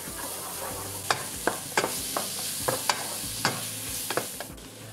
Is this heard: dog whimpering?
no